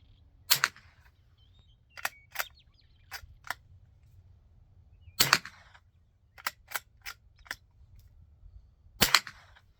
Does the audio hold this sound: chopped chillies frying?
no